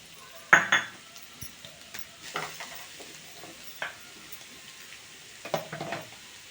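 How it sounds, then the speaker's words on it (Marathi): Grated carrot stirred and sautéed in ghee with a spoon for carrot barfi, giving soft sizzling frying under several scraping clinks of the spoon against the pan, at close range with no voices. "हे गाजर आपण खिसलेलं आहे ना ह्याच्यात घालूया"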